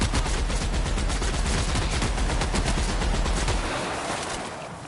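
Rapid bursts of gunfire from a shooter in the video game The Outer Worlds, dense repeated shots in quick rhythm that stay loud and close, then trail off near the end.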